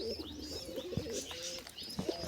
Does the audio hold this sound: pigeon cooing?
yes